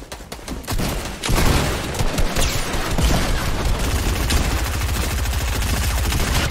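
Dense, sustained automatic gunfire in a Fortnite Battle Royale match, loud rapid bursts running almost continuously with heavy booming under them and no talking.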